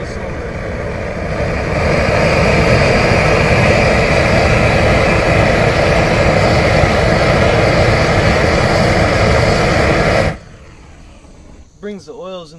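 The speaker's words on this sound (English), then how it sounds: "we take the propane torch, we put a little flamethrower on it, and we burn this lumber" A propane torch fitted with a flamethrower attachment burns lumber with a loud, steady roar that holds for about ten seconds, then cuts off abruptly.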